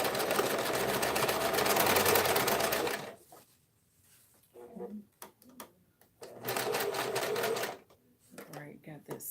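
Sewing machine running fast on a tote bag seam, a loud steady burst of stitching that stops, then a second run after a pause filled with handling noises and someone speaking.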